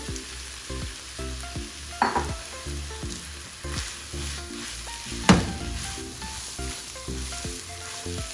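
Minced chicken keema fries in a hot pan for a lasagna filling, a steady close sizzle with a few sharper pops and scraping stirs over a faint background tone.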